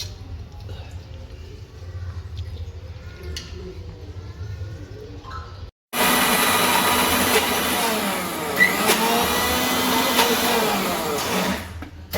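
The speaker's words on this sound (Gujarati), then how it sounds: "હવે આપણે આ દાળને મિક્સરમાં પીસી લઈશું." Mixer grinder coarsely grinding dry moong dal with no water, a loud, steady whirring roar that starts abruptly and runs continuously after a quieter stretch of room sound.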